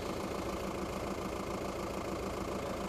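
A car's engine idling during a night police traffic stop in Herzegovina, a steady low mechanical hum throughout, heard alone without voices.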